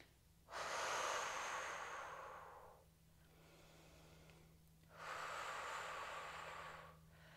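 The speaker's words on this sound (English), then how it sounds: "Breathing in through the nose and out through the mouth." Two long, close breaths during a Pilates workout, each a loud airy rush that fades out, separated by a quieter stretch of soft breathing, with a faint steady hum underneath.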